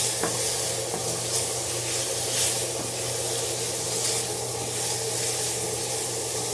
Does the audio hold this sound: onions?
yes